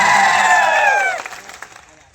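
A crowd at an Aam Aadmi Party political rally cheers and whoops to welcome a village sarpanch joining the party, a loud rising shout that quickly fades into scattered crowd noise.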